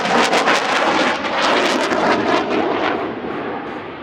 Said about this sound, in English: This is the Navy's newest stealth strike fighter.